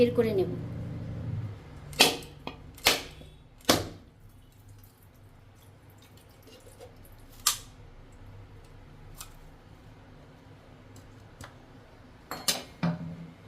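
Whole coconut being cracked open for its water while preparing a prawn malai curry: several sharp, loud knocks near the start, then scattered fainter taps, with a low drain-like rumble early on.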